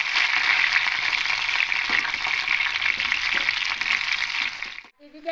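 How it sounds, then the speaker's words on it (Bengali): Potato pieces frying in hot mustard oil in a pan, a loud, dense, continuous sizzle close by that holds steady before dropping away suddenly near the end. "এবার আলুর টুকরোগুলো ভেজে নেব।"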